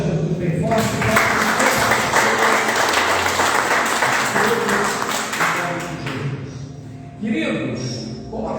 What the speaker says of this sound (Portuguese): Pode aplaudir a Jesus bem forte.